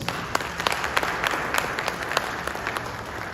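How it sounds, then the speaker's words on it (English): An audience at a panel discussion on licensing and regulatory frameworks claps, a dense burst of hand clapping from a room of people that carries steadily through the short moment with no voices over it. "Let's give them a huge round of applause."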